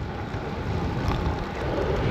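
Steady buffeting wind rumble from air rushing past a microphone while gravel cycling into a headwind, loud and continuous with no voices.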